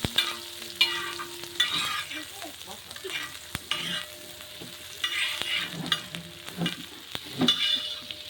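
Chopped chili and onion frying in hot oil in a pan, a steady crackling sizzle with intermittent stirring clinks and scrapes, close and moderately loud, no voices.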